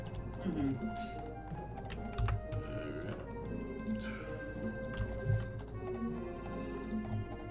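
Horse hooves clip-clopping in the video game Daggerfall, a quiet, rapid rhythmic clatter under game music, with a voice talking over it.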